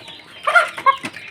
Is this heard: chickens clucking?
yes